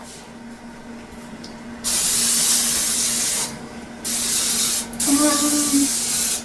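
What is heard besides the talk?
spraying baking spray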